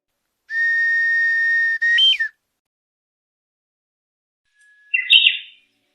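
Japanese bush warbler whistle toy (uguisu-bue) imitating birdsong: a long steady whistled tone rising into a short warble, then after a pause a brief fluttering trill, clear and close in silence.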